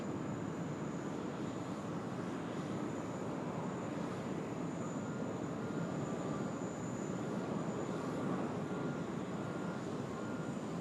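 A Sichuan Airlines Airbus A330 jet produces a steady, distant engine roar with broadband rumble that holds evenly throughout at Sydney Airport.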